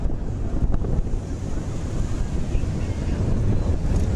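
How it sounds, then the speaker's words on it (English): Steady wind roaring across the microphone, with a low rumbling wash like surf underneath, constant and loud throughout. "You can hear the wind. Yep, today's the windiest day."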